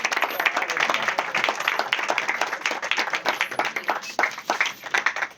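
Loud, sustained applause from an audience welcoming actress Jayshree, who played the heroine's friend in the Gujarati film 'Sasan'; dense, continuous clapping fills the whole stretch without a break.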